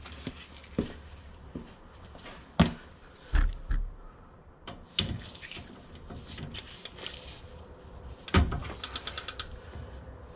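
A breaker bar with a short extension on a 5/8 socket works loose the steering gear box bolts on a Ford Ranger, giving scattered metallic clicks, ratchet-like clatters and sharp knocks, close and irregular, with no talking.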